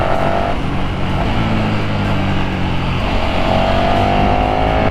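A 2022 KTM Super Duke R motorcycle rides along a road with its engine running loud and steady. The engine drone rises and shifts in pitch, and wind rush sits under it throughout.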